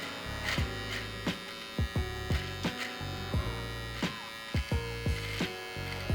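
Electric beard trimmer held in two hands for tidying beard length at home, a steady low mains-like hum with repeated short buzzing bursts as the blades pass through hair, close and fairly quiet.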